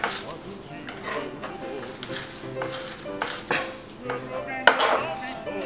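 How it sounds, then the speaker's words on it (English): Garlic being smashed with salt into a paste in a home kitchen, a run of close knocks and scrapes of utensil on board and bowl, with one sharper clink near the end. "I'm gonna add a little salt to the garlic. And that'll be an abrasive agent that'll help me smash and turn this garlic into almost a paste"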